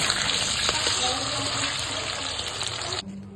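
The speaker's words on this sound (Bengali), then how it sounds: "চিকেনটা ক্রিস্পি করে ভেজে নেব এখন" Marinated chicken frying until crispy, a dense, loud hissing sizzle that continues steadily and then cuts off abruptly near the end.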